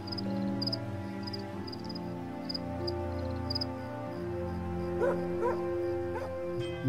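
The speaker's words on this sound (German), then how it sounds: "Ich habe noch keinen Hund gesehen, aber ich höre ihn doch an." A dog barks a few times in the cellar of a pub in the point-and-click game Märchenmysterien: Der Puppenspieler. The short, faint barks come over steady background music and a high, chirping insect-like tone.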